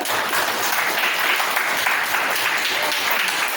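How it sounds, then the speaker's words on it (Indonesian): Classroom applause after a student presentation in an informatics lesson, loud steady clapping from many hands with no talk over it. "Tepuk tangan dong"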